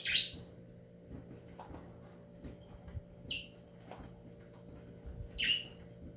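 A few short bird chirps, faint and spaced apart, over a low steady hum in a quiet indoor or backyard setting, no talk.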